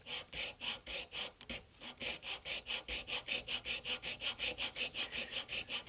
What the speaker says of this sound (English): Doing it with this little small handheld hacksaw just to show you that it doesn't require expensive tools.